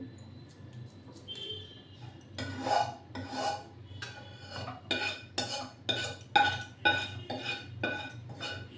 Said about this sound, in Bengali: এবার দেখুন আমি এই থালা বসিয়ে দিলাম